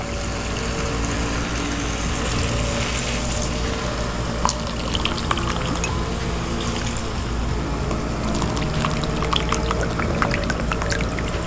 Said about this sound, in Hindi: अब हम इसमें 1 गिलास पानी डालेंगे ताकि हमारे आलू अच्छे से गल जाएं।